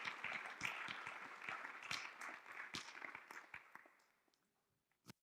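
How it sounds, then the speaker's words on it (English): Audience applause for a minister at a governor's symposium, a crowd clapping steadily for about four seconds before tapering off to a few scattered last claps. "Please give our minister a round of applause."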